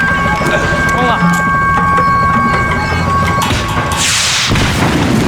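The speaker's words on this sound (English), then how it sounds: "The fireworks display was clearly in my honor" Fireworks display in the video game Max Payne 3, heavy booms and crackling bursts building to a loud blast near the end, over a steady background hum.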